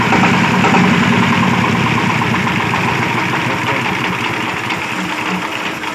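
A car engine idles steadily in a garage in Cư Êban, a dense continuous rumble with fine mechanical ticking that holds loud and even throughout, with no clear talk over it.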